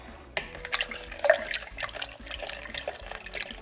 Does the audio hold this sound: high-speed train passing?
no